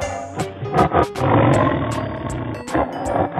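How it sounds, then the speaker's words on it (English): Cartoon tiger roaring in a wild-animal cartoon, a series of loud, gritty roars and growls that swell and break in repeated bursts close up, with sharp accents scattered through. "Tiger."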